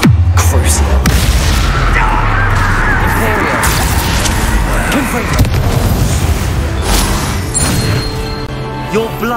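Combat in the Hogwarts Legacy video game, with spells cast in quick succession, produces loud, dense booms, blasts and crackling bursts that overlap continuously for about nine seconds.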